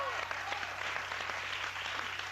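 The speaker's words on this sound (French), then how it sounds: "on peut s'applaudir." A TV game show studio audience clapping, a broad, even wash of applause lasting a couple of seconds with voices faintly mixed in, moderately quiet.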